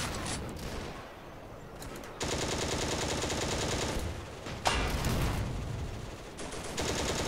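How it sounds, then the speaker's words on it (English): Tank machine gun from a Panzer II in Steel Fury, firing at infantry in long sustained bursts with short gaps between them, loud and close, with only faint talk in the background. "Just machine gun them to death."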